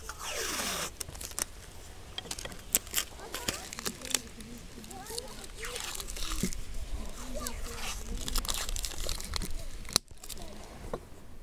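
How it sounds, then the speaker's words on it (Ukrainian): Repeated ripping and stretching of adhesive tape wrapped around a fishing rod, close and fairly loud, in irregular pulls over steady outdoor background noise. "Примотаємо нашу закидушку скотчем."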